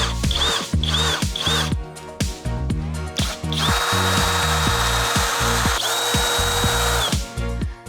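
A power drill whirs in repeated bursts, its motor pitch rising and falling as screws are driven into blind brackets, with short pauses between runs.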